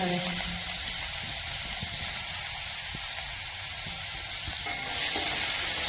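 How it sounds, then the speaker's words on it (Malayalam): About 150 grams of ginger frying in hot coconut oil for puli inji gives a continuous, close sizzle and hiss that holds steady and swells louder near the end, with faint talk beneath it. "നൂറ്റി അമ്പത് ഗ്രാം ഇഞ്ചിയാന്ന് എടുത്തിട്ടില്ലേ അത് നമുക്ക് ഈ എണ്ണയിലേക്ക് ചേർത്ത് കൊടുക്കാം"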